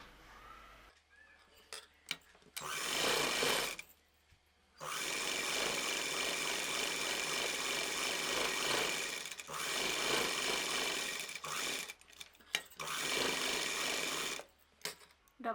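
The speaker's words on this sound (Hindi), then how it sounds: "इसी तरह हम दूसरी भी सिलेंगे।" A sewing machine stitches a frill frock in several steady runs of a few seconds each, separated by short pauses, loud and close with no talking.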